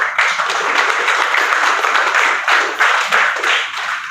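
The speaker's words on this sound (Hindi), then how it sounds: "तालियां बजा रहे हैं" A room full of people at a farming lecture claps in a dense, steady patter for a few seconds, with no talk over it.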